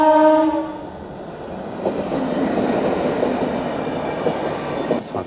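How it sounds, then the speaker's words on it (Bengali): A train pulling into a station sounds a loud horn at the start, then a heavy, steady rumble of rolling wagons. The rumble holds close and full for the rest of the moment, with faint clatter. "ট্রেন ঢুকছে।"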